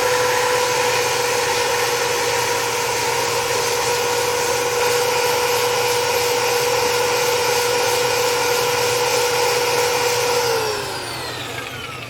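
A power sander works a box elder wood bowl with a loud, continuous high whine and gritty abrasion that holds steady, then winds down in pitch near the end.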